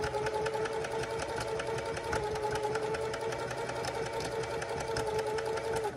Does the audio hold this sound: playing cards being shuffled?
no